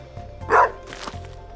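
A single short dog bark from a farm dog in the video game Stardew Valley, sounding once at moderate loudness over quiet game background music.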